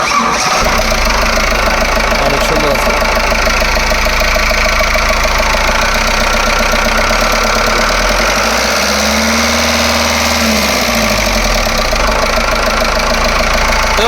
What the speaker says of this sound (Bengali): গাড়িটা স্টার্ট করেন তো সাউন্ডটা দেখানোর চেষ্টা করবো